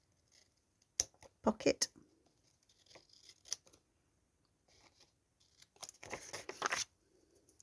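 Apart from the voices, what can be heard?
scissors with glue on them cutting paper for a journal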